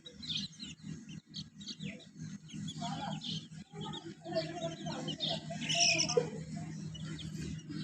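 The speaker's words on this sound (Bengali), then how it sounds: "এই দেখতে পাচ্ছেন এখানে সবগুলা দেশি মুরগির বাচ্চা" Native chicks chirp in short high peeps scattered across the clip as they forage on the ground, over a low background hum and faint rustling.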